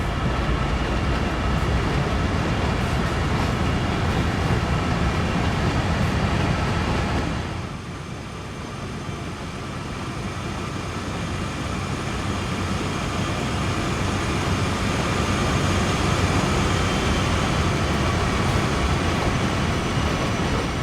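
Diesel locomotive in Train Sim World 2 on the Cane Creek line, climbing a 1.5% grade under heavy power, a loud, steady engine drone and rail rumble with a brief dip midway before building again.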